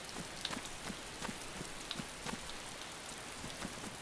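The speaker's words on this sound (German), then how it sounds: "Warum regnet es hier jetzt eigentlich die ganze Zeit?" Rain falls steadily in the video game DayZ, a soft continuous patter of drops on surfaces with scattered louder individual hits, alone and fairly quiet.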